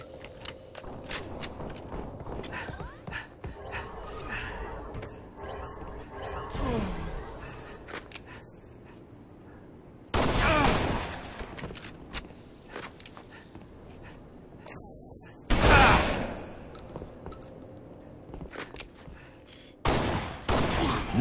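Shotgun blasts from a Halo Reach Living Dead match ring out as a few loud, separated booms amid quieter game noise, clicks and scattered smaller shots, with an announcer's voice heard now and then.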